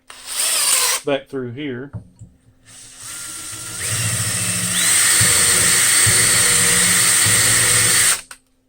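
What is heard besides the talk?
1/8 inch drill bit drilling a metal fitting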